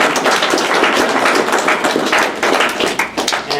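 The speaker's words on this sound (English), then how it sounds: "One big round of applause for everyone who came up." At an open mic night, an audience applauds with loud, dense clapping that fills the whole moment and thins slightly toward the end.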